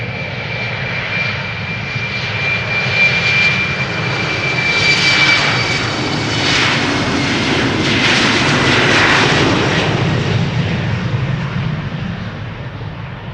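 A TUI Boeing Dreamliner departs Amsterdam Schiphol for Paphos, its engines a loud, close roar with a thin high whine, swelling in waves as the jet passes and fading slightly at the end.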